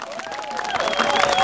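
A crowd at a midsummer festival held in a yard in Agluonėnai claps and cheers, a dense wash of applause that swells slightly toward the end, with voices mixed in.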